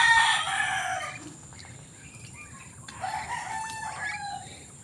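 A young rooster crows once near the start, the call loud but strained and short. Softer clucking and faint farmyard bird sounds follow over low background noise.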